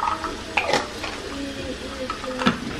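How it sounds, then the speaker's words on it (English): Water poured into a cooking pot for rabbit gravy, splashing and stirring sounds in short bursts close by, with a voice speaking over it. "We about to add our water."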